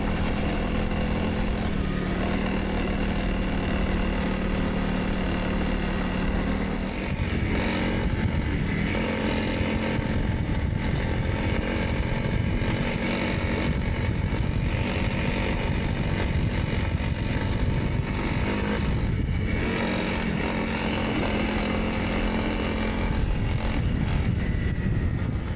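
Honda CRF300L dual-sport motorcycle with a rally tower ridden at night in freezing weather, its engine droning loudly and continuously with pitch shifts as it accelerates and eases off, wind rumble underneath.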